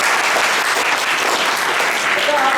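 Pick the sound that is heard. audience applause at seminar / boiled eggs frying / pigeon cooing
audience applause at seminar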